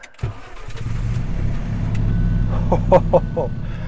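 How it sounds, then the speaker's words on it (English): An Alfa Romeo 4C sports car engine cranks and catches, settling into a deep, loud idle rumble, with a few short beeps near the end. "So I'm ready to turn the car on."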